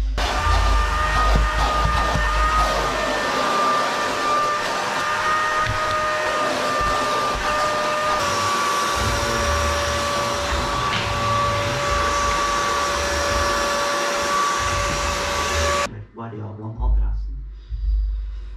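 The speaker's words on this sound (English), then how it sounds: "And now we're at the point of really vacuuming the shite that I have." A vacuum cleaner runs continuously with a steady whine and a shift in pitch partway through, loud and close, cleaning up around a workstation, before cutting off near the end.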